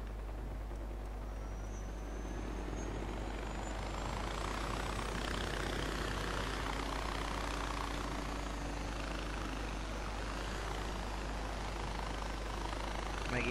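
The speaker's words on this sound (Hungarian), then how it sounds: "akkor most megyünk ezzel a kis helikopterrel" Helicopter engine in the video game Far Cry 4, a steady whirring drone with broad rotor wash holding loud and continuous throughout, with no talk over it.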